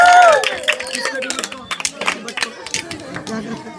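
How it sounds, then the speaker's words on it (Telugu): Applause breaks out at a children's birthday celebration right after the birthday song: a run of quick, uneven claps from a small group of people nearby, mixed with chatter. "చప్పట్లు"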